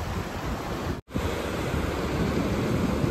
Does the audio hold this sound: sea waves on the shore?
yes